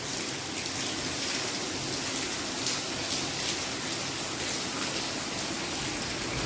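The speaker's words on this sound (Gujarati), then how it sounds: "ચાલુ થયો મિત્રો વરસાદ" Light rain falls steadily and water runs alongside it, a constant soft hiss of drops with no voices and no breaks.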